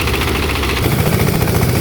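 A rice threshing machine's engine is revved to full speed during harvest in Laos, giving a loud, close, steady mechanical drone with rhythmic vibration throughout.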